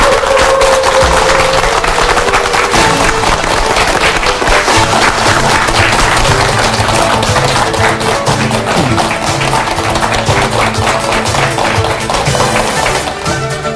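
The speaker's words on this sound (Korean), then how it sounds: "여러분 큰 박수 부탁드립니다" Sustained audience applause at a televised MBC seminar hall in Andong as a speaker is welcomed on stage, a dense, steady clatter of many hands clapping that fills the whole stretch without talk.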